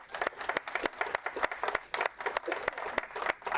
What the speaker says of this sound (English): let's give everyone here a round of applause